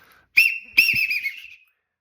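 A loud duck call whistle, one that produces five different duck calls, gives two close, strong warbling blasts, the second longer with a wavering, quacking-like pitch, then stops with no other sound around it.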